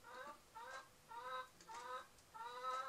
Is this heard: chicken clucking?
yes